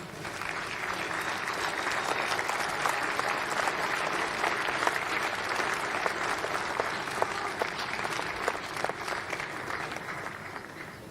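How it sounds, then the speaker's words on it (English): Warm, sustained applause fills a venue at the closing ceremony of the Men's Softball World Cup 2022, a dense, steady crowd clapping that carries on evenly for several seconds with no talk over it. "please, a warm applause for Poiako Aotearoa, our very own Softball New Zealand."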